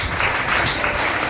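At a school education department event for the Azadi Ka Amrit Mahotsav celebration, an audience claps loudly to welcome a guest, a short, dense burst of applause close by.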